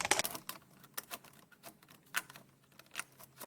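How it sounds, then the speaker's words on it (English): Crisp snipping clicks repeat irregularly, close and fairly quiet, as scissors cut through stiff vinyl siding. "now I'm going to cut it with a kind of a scissors"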